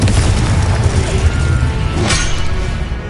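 Hogwarts Legacy Confringo blast spell going off during combat: a continuous low rumbling boom with a sharper burst midway, loud and close amid constant battle noise.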